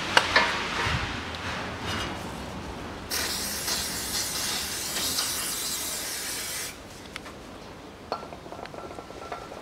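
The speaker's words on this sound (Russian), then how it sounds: "И также силиконовой смазкой смажу" Silicone grease being worked onto a car's front wheel hub bearing during a repair, heard as close, faint metallic clinks and a soft spray-like hiss with brief ratcheting, with no talking.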